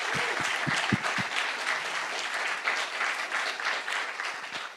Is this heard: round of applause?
yes